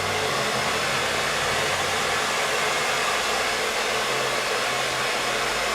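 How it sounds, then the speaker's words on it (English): Hair dryer blowing at the crown roots during a voluminous blowout, a loud, steady, close-up roar of rushing air that holds constant without a break. "blow drying"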